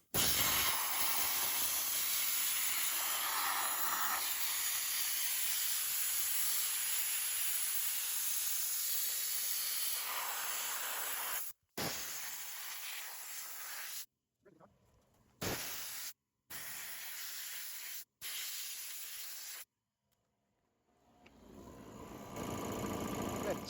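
A 20-gallon Vevor sandblaster running off an air compressor gives a loud continuous rushing hiss that keeps stopping and starting in bursts, then drops into quiet with a faint background hum.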